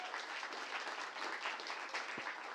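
Audience applause at a live music-technology presentation event, a steady wash of many hands clapping at moderate level throughout, with no talking over it.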